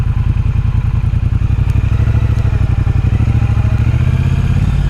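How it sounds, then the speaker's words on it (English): A Triumph Bonneville Speedmaster motorcycle engine runs loud and close with a steady, throbbing low rumble and a rapid, even pulse that holds throughout, with no voices. "An absolutely gorgeous motorcycle."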